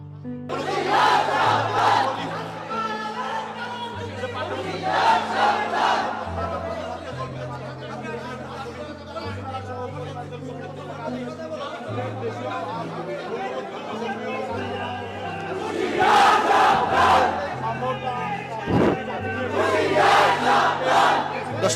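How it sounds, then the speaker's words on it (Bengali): Protesting Dhaka University students chanting slogans outside the NCTB office, a large crowd's rhythmic shouted chants rising in loud bursts, with crowd chatter in between, heard close and continuous. "পুরো জায়গাটা কিন্তু বিভিন্ন নামে কিন্তু তারা স্লোগান দিচ্ছে"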